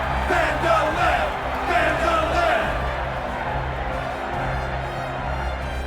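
An arena crowd in the video game Octopath Traveler II cheers and yells in a loud, surging mass, with rhythmic swells of chanting over a low rumbling bed.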